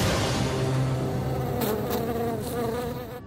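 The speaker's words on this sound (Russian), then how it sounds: "Только в реальной жизни Салацкая пострадает от укуса обыкновенной осы." A common wasp buzzes close and steady, its drone wavering slightly in pitch, with no voices over it.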